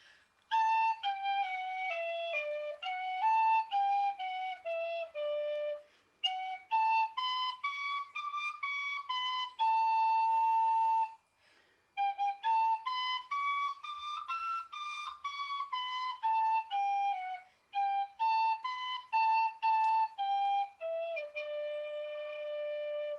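A tin whistle plays a lively folk melody in short phrases, clear and close, alongside a recorded song, with brief pauses between phrases.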